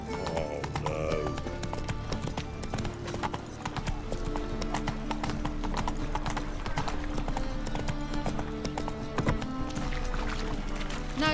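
Roach, the horse in The Witcher 3 video game, gallops at a steady pace with rapid hoofbeats, and a whinny rises early on over continuous game sound.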